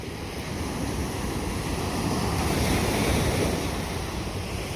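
Winter waves rolling onto Presque Isle beach below eroded dunes, a continuous loud roar of surf mixed with gusting wind buffeting the microphone, with no talk.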